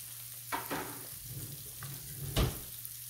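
Red snapper searing in a hot pan, a soft steady sizzle with a few brief spatter bursts and one louder crackle near the end, close and without talk.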